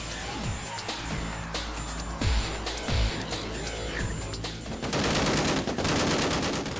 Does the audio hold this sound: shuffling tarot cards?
no